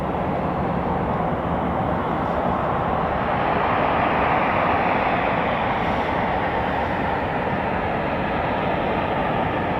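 A Eurofighter Typhoon FGR4 jet engine on afterburner roars at a UK RAF airfield. The sound is a loud, broad, unbroken rushing blast lasting the full ten seconds.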